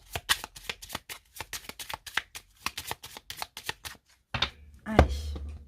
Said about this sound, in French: On va commencer par une coupe et après, on prendra 8 cartes.